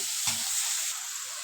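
Spices sautéing in a pan for a fish curry, a steady close sizzle with a brief stir-scrape near the start, with no voices.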